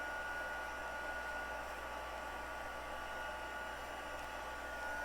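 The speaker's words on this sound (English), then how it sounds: "we're going to bring in our heating tool, and we're going to go ahead and heat emboss that" A heat embossing tool blows a steady, even whoosh of hot air while melting embossing powder on a greeting card, constant and close with no other sounds.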